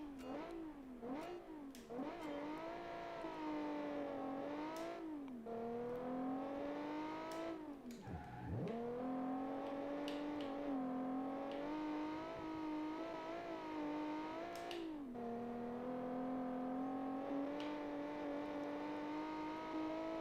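A 1967-style race car engine in BeamNG revs hard and continuously for twenty seconds, its pitch rising and falling with throttle changes and a sharp drop near the middle, loud and close with no talk.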